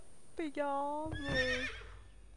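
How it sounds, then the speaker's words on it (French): Horses whinny in the Viking-era video game Assassin's Creed Valhalla, a single clear neigh followed by a second rising whinny, fairly quiet and close, with no talk over them. "ça, c'est mes chevaux"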